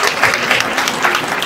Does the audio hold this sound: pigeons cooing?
no